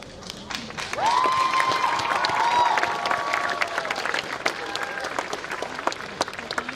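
Audience applause fills a college commencement ceremony, a sustained wash of clapping from a large crowd that holds steady throughout, with scattered louder claps near the end.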